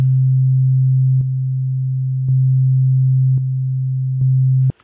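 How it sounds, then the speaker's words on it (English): Two matched sine wave pure tones sounding together as one steady, loud, unbroken hum, with faint clicks at regular intervals before it cuts off. "like a sine wave, sounds like a pure tone"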